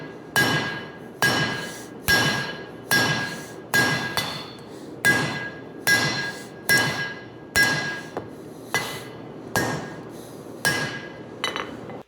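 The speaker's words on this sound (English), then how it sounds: "As I forge the tip of this blade" Hammer blows shaping the tip of a honesuki knife blade at the forge, a run of about ten sharp ringing strikes in a steady rhythm, each with a bright metallic ring that decays before the next, close and loud.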